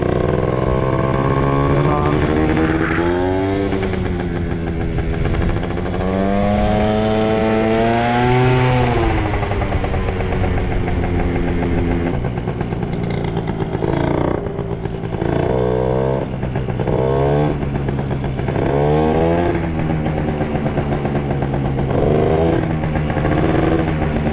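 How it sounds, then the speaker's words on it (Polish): A larger motor scooter passes by on a street, its engine buzzing loudly and continuously while its pitch rises and falls as it goes by, then fading into steady traffic and engine noise. "i skuter jakiś jedzie"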